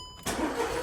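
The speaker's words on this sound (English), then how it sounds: "Again, we can start the engine." A VW car engine cranks and catches right after an oil and filter change, a sudden burst of starter and engine noise settling into a steady run, heard close and alone.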